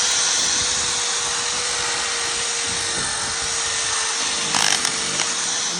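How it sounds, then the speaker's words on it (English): A corded drill fitted with a cleaning attachment whines steadily while working down between exterior wood deck boards, a continuous high buzz with brief scraping bursts near the end. "So a corded drill with the right attachment, it's all about having the right tools when you're doing exterior wood restoration"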